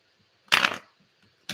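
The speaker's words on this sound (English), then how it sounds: "Let me give these a quick shuffle." Tarot cards shuffled in a quick burst of riffling and flapping, close and fairly loud for about a third of a second, then quiet before another shuffle starts.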